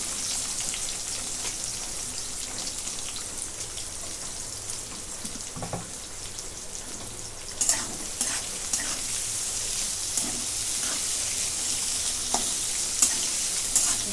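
Sliced onion frying in oil with cumin, mustard seeds and curry leaves for batata kanda poha, a continuous soft crackling sizzle with occasional stirring clicks, close but fairly quiet, no talk.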